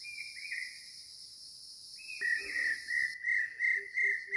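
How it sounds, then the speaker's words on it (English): Steady high-pitched insect buzzing throughout on a forest hill trek near Kathmandu, joined midway by a repeated chirping bird call in short regular bursts, fairly close and clear. "And as well as the insects, also the birds."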